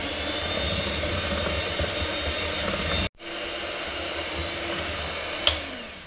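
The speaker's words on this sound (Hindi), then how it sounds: "एक मिनट तक यीस्ट के साथ हमने इसे मिक्स किया है।" A kitchen machine mixes white bread dough with yeast, giving a steady, loud whirring drone throughout, broken by a brief silent gap near the middle before the motor resumes, with one sharp click late on.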